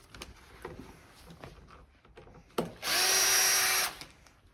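An electric screwdriver undoes the screws on a runner seat unit, giving one loud whirring burst of about a second after a few quiet knocks and handling sounds.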